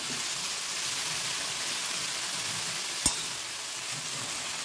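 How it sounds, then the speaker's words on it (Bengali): Neem leaves and eggplant fry in oil with a soft, continuous sizzle and crackle. A single sharp knock of a utensil stands out near the middle, and no one speaks. "আমার নিম বেগুনটা ভাজা হয়ে গেল"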